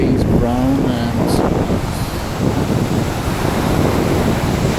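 Winter sea surf rolls onto a beach in a continuous wash of broadband noise mixed with wind buffeting, as a person speaks briefly at the start.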